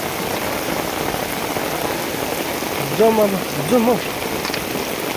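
Heavy rain pours down steadily during a river flood, a dense hiss throughout, with a voice briefly speaking twice over it.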